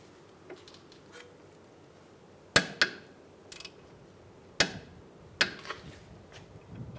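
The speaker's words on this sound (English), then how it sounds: "we're going to back up that nut, and we're going to torque it down to 45 foot-pounds" Sharp metallic clicks from a torque wrench tightening a sway bar link nut on a 2007-2015 Mazda CX-9, a handful of crisp, close snaps spaced a second or two apart over quiet background.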